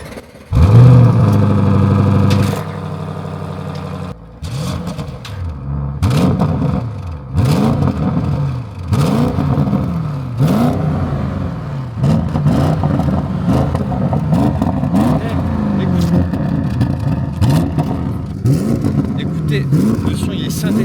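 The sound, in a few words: BMW M5 F90 or Audi RS6 engine starting and revving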